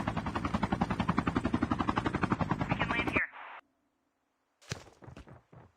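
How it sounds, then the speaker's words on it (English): A helicopter in Call of Duty: Mobile gives a loud, rapid, pulsing rotor chop for about three seconds. It cuts off abruptly into near silence, and a few brief scattered sounds follow. "Oh, they're in a helicopter."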